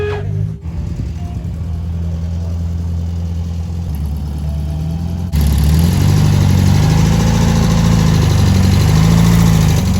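'66 Wanna Be custom car running steadily with a low, throaty engine hum, then the revs step up to a louder, fuller idle that holds steady to the end, close by and without talk.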